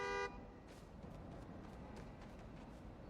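A car horn in Spider-Man: Miles Morales gives a short, steady honk at the start, then cuts off, leaving a faint hum of city ambience.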